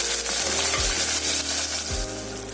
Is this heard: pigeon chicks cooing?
no